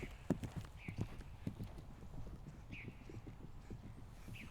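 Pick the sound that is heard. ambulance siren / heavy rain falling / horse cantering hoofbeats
horse cantering hoofbeats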